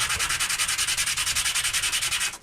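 A bike brake pad is rubbed back and forth on 120-grit sandpaper in a fast, even rhythm of about ten strokes per second, each one a loud, close, raspy scrape.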